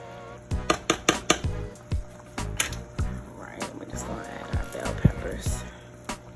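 A spoon clanks and scrapes against a cooking pot while oxtails and potatoes are stirred, a series of sharp metallic knocks in an irregular rhythm, close up, with a faint voice in the background.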